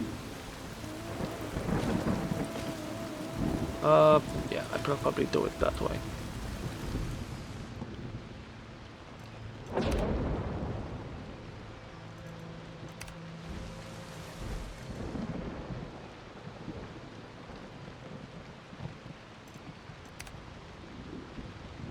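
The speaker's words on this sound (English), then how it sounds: "The gods bless us with rain!" A storm rolls through in the survival game Soulmask: steady rain patters on surfaces while several loud thunderclaps boom and rumble, and someone speaks briefly partway through.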